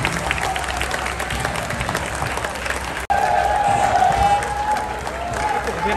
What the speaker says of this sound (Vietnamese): Các cổ động viên thành phố Hồ Chí Minh cũng dành những tràng pháo tay cho tinh thần thi đấu của cầu thủ Young Elephant